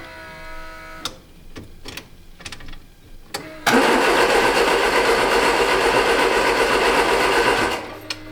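Fuel pump of a 1967 MGB GT ticking in a few sharp clicks, then buzzing steadily and loudly for about four seconds before cutting off, close by with no talk.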